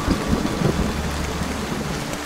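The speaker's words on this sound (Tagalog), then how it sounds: "inabot na siya ng ulan sa kagubatan" Steady rain pours through a forest at night, a dense, even wash of drops with low rumbling underneath, close and continuous without any voices.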